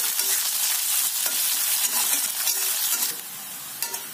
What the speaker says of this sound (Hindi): प्याज डाल के इसको ब्राउन होने तक भून लेंगे अच्छे से